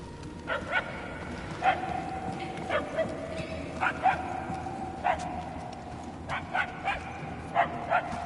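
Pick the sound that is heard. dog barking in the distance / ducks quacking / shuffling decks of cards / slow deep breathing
dog barking in the distance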